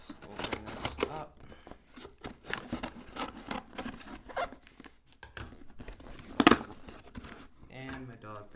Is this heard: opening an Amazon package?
yes